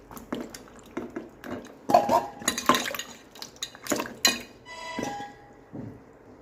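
Pointed gourd (parwal) being rinsed a second time in water in a kitchen vessel: a run of close clinks, knocks and wet splashes in uneven bursts, with a quieter settling tail and no voices.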